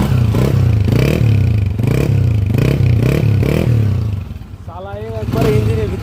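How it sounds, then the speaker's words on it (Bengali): A Honda CG 125 motorcycle idles close by, its engine and silencer giving a loud, steady low putter with rhythmic pulsing, while someone talks over it near the end. "ইঞ্জিনের ভিতরে সাউন্ড থাকে, আরে সাইলেন্সারের সাউন্ড"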